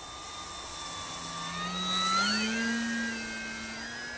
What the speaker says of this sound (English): It's a nice gentle flying trainer plane, this one.